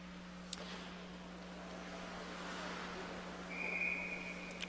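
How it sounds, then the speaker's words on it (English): Referee whistle at an ice hockey game between the USA and Canada, a steady shrill tone near the end of the clip, sounding fairly clear above a low constant arena hum. "Whistle on the play"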